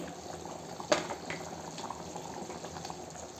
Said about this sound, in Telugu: ఇది ఒక కొద్దిసేపు సిమ్లో పెట్టి ఉడకనిద్దామండి చింతపండు రసం ఎంత బాగా ఉడికితే పులుసు అంత బాగుంటుంది